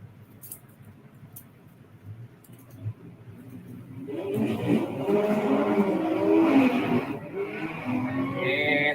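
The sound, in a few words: Volkswagen gasser drag car launching at drag race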